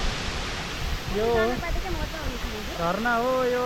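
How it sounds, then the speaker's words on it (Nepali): Thalkung waterfall in Nuwakot, Nepal, a steady broad rush of falling water heard close, with someone speaking over it in two short phrases. "झरना हो यो झरना"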